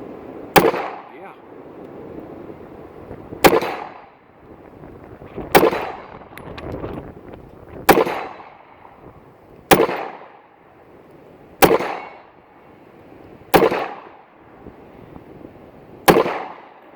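An old used Luger P08 pistol fires eight loud, sharp shots at a steady pace of roughly two seconds apart. Each crack rings out briefly and decays before the next.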